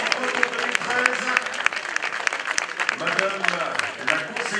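Audience applause at the final podium ceremony of a cycling stage race, the Essor Breton 2013, with a crowd clapping steadily alongside scattered sharp individual claps, while a voice speaks over the sound throughout.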